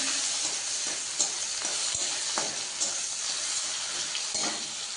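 Onions sizzle in hot oil with panch phoron, dried chillies and bay leaves, a steady bright hiss with occasional stirring clicks and pops throughout.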